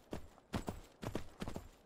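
Horse hooves clopping in the video game Myth of Empires, heard as four spaced bursts of close, fairly loud footfalls, each a quick double or triple strike, with no talking.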